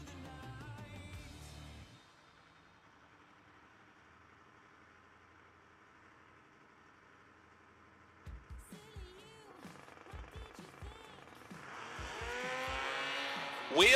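Drag racing launch between a stock eliminator Buick and a two-wheeler, quiet at first, then engine bursts and a rising, roaring acceleration that builds loud toward the end, with indistinct voices beneath.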